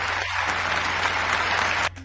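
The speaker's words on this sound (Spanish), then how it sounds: "¡Un aplauso!" A radio show audience claps and cheers loudly in a dense, continuous burst of applause that cuts off abruptly near the end.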